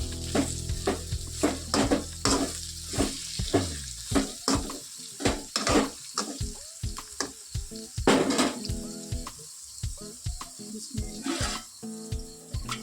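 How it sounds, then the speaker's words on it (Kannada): Repeated scraping strokes of a spoon stirring onions and chillies with soybeans in a pan, with a soft sizzle underneath; no talking. "ನೀರುಳ್ಳಿ ಕೈಮೆಣಸೆಲ್ಲ ಮಿಕ್ಸ್ ಮಾಡಿದ್ರೆ"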